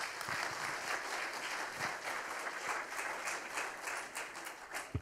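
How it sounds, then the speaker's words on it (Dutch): Audience applause at a guest lecture in a college hall, steady moderate clapping from a seated crowd, fairly soft and even throughout. "Graag een applaus voor Koen Pekking."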